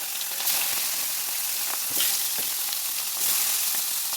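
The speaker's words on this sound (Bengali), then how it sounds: "মাছগুলো আমি সবগুলো দিয়ে দেবো তেলের মধ্যে" Pieces of katla fish frying in hot oil in a wok, a loud close sizzle that swells in bursts as pieces go in, with scraping and stirring sounds and no voices.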